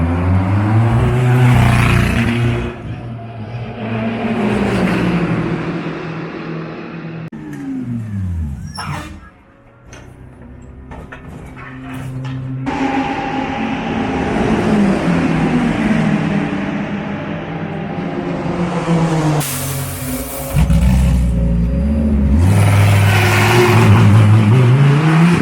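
A Lamborghini Huracan GT3 Evo race car's high-pitched V10 engine screams past, revving up and down through gear changes, loud and close, with a brief dip before roaring again.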